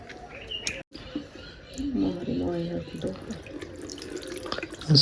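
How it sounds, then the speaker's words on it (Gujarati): Cold tap water running over freshly made homemade paneer as it is rinsed, a steady splashing flow at moderate level, with a person talking over it. "મસ્ત ઠંડા પાણી ધોઈ નાખીએ"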